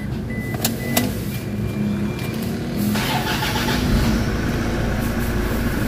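Toyota Fortuner engine being started: a few faint clicks give way to the engine catching around the midpoint and settling into a steady, louder running rumble close by, with no talking.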